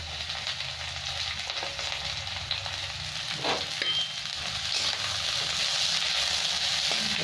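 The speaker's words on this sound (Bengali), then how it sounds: "এবার আমি তেলটা গরম হয়ে গেছে, এবার বিনস আর গাজর তেলের মধ্যে দিয়ে দেবো।" Beans and carrots frying in hot oil for chowmein, a loud, continuous sizzle with a brief stirring clatter partway through, no voices.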